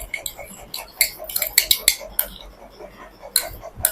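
A spoon clinks and scrapes against a bowl while stirring a honey face pack, with irregular bright taps in quick bursts, close and fairly quiet, with a few pauses.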